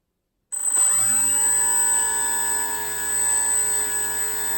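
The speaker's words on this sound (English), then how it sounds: "Final test, the motor, arm switch, bring up the throttle" Electric motor of a Hobbyking Bixler 2 RC plane spins up abruptly from silence to a loud, steady high-pitched whine that holds at full throttle, close and continuous.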